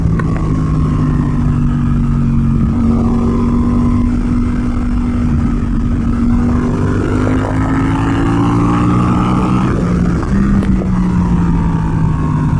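A Suzuki GSX-8R motorcycle fitted with a full exhaust, a flashed ECU and a modified airbox accelerates hard through its gears, the engine note rising and dropping at each shift, loud and continuous with wind noise and no talk.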